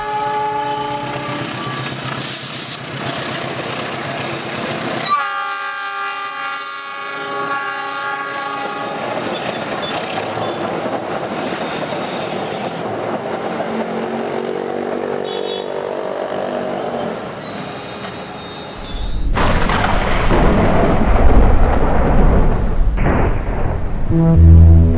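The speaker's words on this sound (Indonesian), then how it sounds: "Kereta api Panglango Bogor Sukabumi kini beroperasi kembali." The Pangrango passenger train on the Bogor–Sukabumi line rumbles past with clattering wheels as its horn blares in long loud blasts, then the roar grows heavier and closer toward the end.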